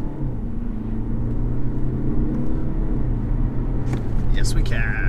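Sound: 2020 BMW 520d estate car accelerating hard from launch

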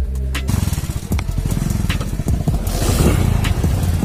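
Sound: motorcycle engine running

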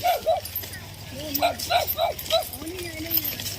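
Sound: dog barking

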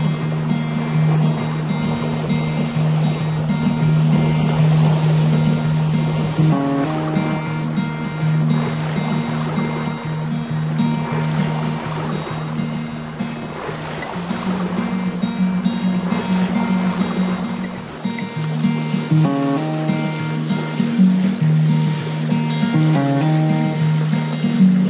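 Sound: boat motoring over ocean waves

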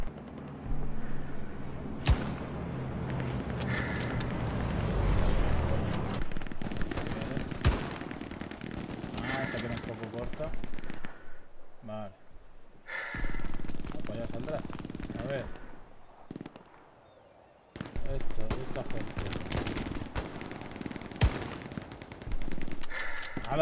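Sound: sniper rifle gunfire in the video game Hell Let Loose

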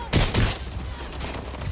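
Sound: gunshots in Watch Dogs Legion video game

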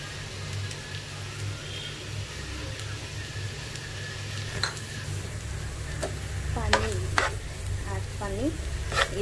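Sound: paneer being sautéed in a pan

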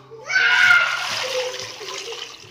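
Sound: water being poured into pan for jaggery syrup

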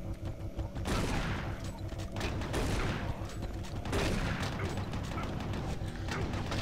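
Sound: gunfire from enemies in the video game Doom 3

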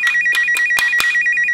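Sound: toy mobile phone ringing

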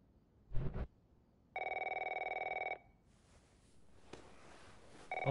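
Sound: telephone ringing in The Last of Us video game

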